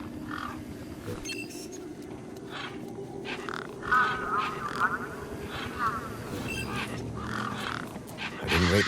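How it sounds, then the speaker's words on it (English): Birds in the video game Beyond A Steel Sky squawk and cackle around a truck in repeated harsh bursts over a low ambient game backdrop, growing busier toward the end. "Those birds weren't going to let me anywhere near the back of the truck."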